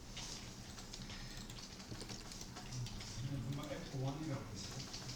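Keys tapped on a computer keyboard while entering text in CAD software, quick irregular clicks under a man's steady instructional speech.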